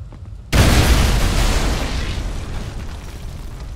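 Planted dynamite in the video game Wolfenstein detonates with a sudden, loud boom, followed by a broad roaring rumble that slowly dies away, with no voices.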